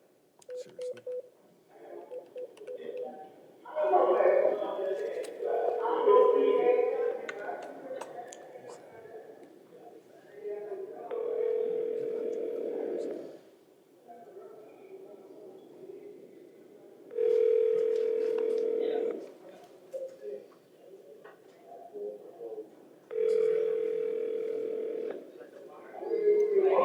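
Phone call to a private attorney's law office from a bond court, with repeated ringback tones in long evenly spaced bursts on the line, after an earlier stretch of dialing beeps and brief talk.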